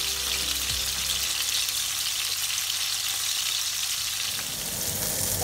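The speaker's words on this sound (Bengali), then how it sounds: "মাছগুলো আমি হালকা করে ভেজে নেব" Tengra fish fry in hot oil in a village-style Bangladeshi kitchen, a loud, steady hiss and crackle of sizzling that continues without pause, with a low rumble underneath that fades early on.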